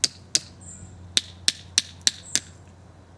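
Repeated sharp metallic taps of a hammer driving a knife down into a branch to split it for a cleft graft, about eight close, crisp strikes at irregular intervals, alone with no talk.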